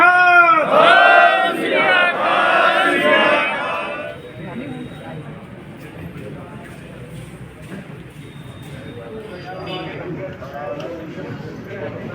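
A crowd at the Central Gurdwara Singh Sabha in Rajpura roars a Sikh jaikara chant, loud and massed for about four seconds before settling into a low, murmuring hum.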